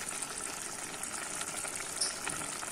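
Water poured into a pot of browning meat with onion and spices for a Fez-style meat and potato stew, giving a steady, close sizzle and bubbling hiss that holds throughout with no talking.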